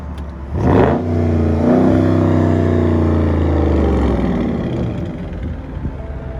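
A 2019 Dodge Charger Scat Pack with its mid muffler deleted revs up sharply, then holds a deep, loud, rumbling exhaust drone that slowly fades as it pulls away.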